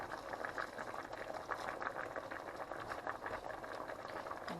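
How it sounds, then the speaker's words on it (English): Thai green chicken curry with fish balls bubbling at a steady boil in a pot, a continuous close, busy gurgling and popping with no voices. "After you let it boil, now the last thing you put basil in there."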